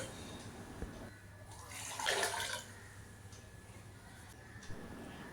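A short burst of water, 1.5 cups, pouring into a pot of rice, lasting about half a second amid quiet kitchen background.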